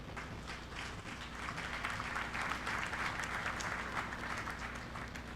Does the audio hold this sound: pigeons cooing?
no